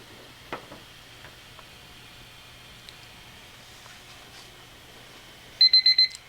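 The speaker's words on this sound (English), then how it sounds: "so that was that timer for the first painting" An auction countdown timer alarm sounds at the end as a quick run of about five loud, bright electronic beeps after several seconds of near silence with faint clicks.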